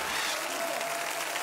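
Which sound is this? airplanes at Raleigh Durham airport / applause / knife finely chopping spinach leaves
applause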